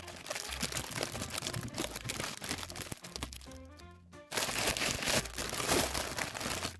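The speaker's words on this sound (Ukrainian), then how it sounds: "І тут у нас буде зараз шурхіт." Crinkling and tearing of the foil and cardboard packaging of a large 220-gram Kinder Gransorpresa Harry Potter egg, close, busy rustling with a short quieter pause before more crackling.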